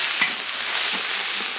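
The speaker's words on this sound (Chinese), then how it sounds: "姜蒜、干花椒一些配料，桂皮、香叶，来爆香" Chili fries in hot oil with ginger, garlic, dried Sichuan pepper, cinnamon bark and bay leaves, giving a loud, even hiss and crackle, with a few soft stirring scrapes and no voices.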